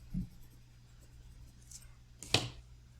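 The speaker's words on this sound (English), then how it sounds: "I'm just using a regular pencil that needs to be dark." A regular pencil makes a couple of faint, brief strokes on paper during a beginner colour-value drawing, quiet scratches separated by near silence.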